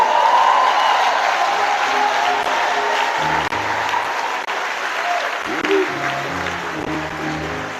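A standing church congregation applauds during a French-language worship service, steady dense clapping filling the room throughout, with voices calling out beneath it toward the end.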